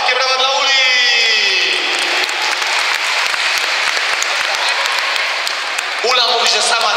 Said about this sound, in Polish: Proszę państwa, wielkie brawa dla Uli!